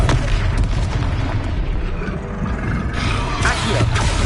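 A Confringo fire spell blasts out in the Hogwarts Legacy video game, giving a loud, rumbling boom that fills the clip with sustained explosive roar and a fresh burst near the end.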